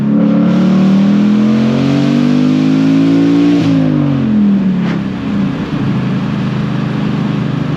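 A 2019 Ford Mustang GT engine revs and accelerates hard, its pitch climbing, dropping at a gear shift, then climbing again, close, loud and roaring.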